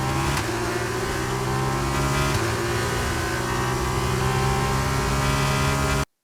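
Formula 1 race car engines in the F1 22 video game, a continuous loud high-revving engine roar with shifting pitch and gear changes, cutting off abruptly at the end.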